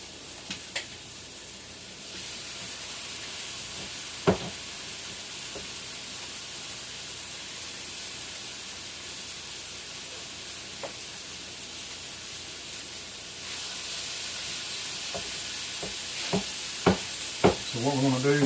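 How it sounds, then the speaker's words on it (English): Salisbury steak patties browning in a pre-warmed skillet give a steady, close sizzle throughout, with a few sharp spatters and pops, growing busier near the end. "what we're going to do is just brown the patties on each side"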